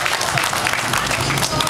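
An audience at a Maynilad groundbreaking ceremony on Elizalde-Aguirre in 2009 claps in a dense, steady burst of applause, close and loud, with voices mixed in.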